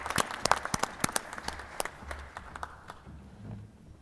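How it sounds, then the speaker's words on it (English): A small audience at a school board meeting claps for award winner Trinity Turvey; a few scattered, distinct hand claps, fairly quiet, thinning out and fading after a few seconds. "Let's give her a big round of applause."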